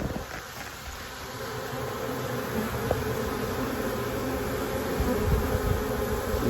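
Honeybees in an opened spring beehive give off a dense, steady drone of buzzing, close and continuous throughout, with faint wind noise in the background.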